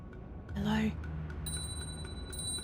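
A shaman rings a bell during a masked ceremony in the video game Nine Sols, a short bright ring followed by higher chiming tones over a low ambient bed.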